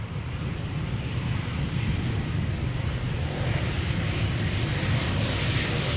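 A KLM Boeing 737-800 arriving from Stuttgart at Amsterdam Schiphol gives off a steady, fairly loud broadband engine roar with wind noise, holding even throughout and swelling slightly toward the end.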